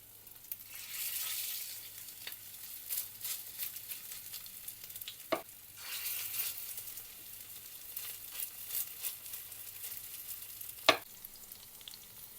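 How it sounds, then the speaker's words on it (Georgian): Chicken cutlets made with egg, garlic, breadcrumbs and parsley fry in an oiled pan over low heat, giving a soft, steady sizzle broken by a few sharp clinks and taps. "ეხლა შევწვათ ზეთიან ტაფაზე."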